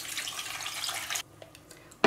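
Water pours into a cooking pot in a kitchen, a steady close splashing stream that stops abruptly, followed by a few faint drips and a brief final splash.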